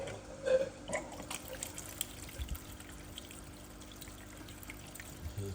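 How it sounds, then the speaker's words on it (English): Water flows through the channels of a garage NFT hydroponic system after the pump is switched on. A faint, steady trickle and gurgle runs throughout with small splashes and clicks, quiet and close. "Here comes the water."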